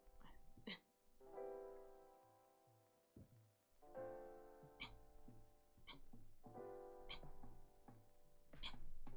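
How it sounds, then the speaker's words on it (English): A cat meows close by a few times during a home painting live stream, with drawn-out tonal cries over a steady, softly pulsing music background. "Baby Kitty has entered chat"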